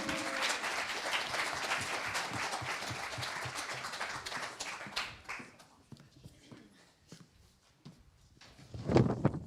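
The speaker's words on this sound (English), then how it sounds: "And now please clap for OncoEquity." Audience applause at a startup pitch event: a large crowd claps steadily and fairly loud for about five seconds, then thins out to scattered claps and faint room noise, with a brief louder sound at the end.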